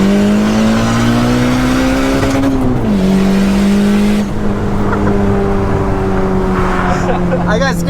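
A turbocharged 1999 Acura Integra GS sedan revs hard from the outside, its engine pitch climbing, dipping at a shift, then pulling again in a loud, sustained drone with faint talk mixed in.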